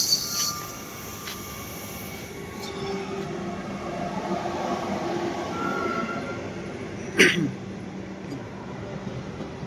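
A Vande Bharat semi high speed train arriving at a station, heard as a low rumbling rolling hum with a faint squeal and a brief burst of noise near the end, with some quiet talk.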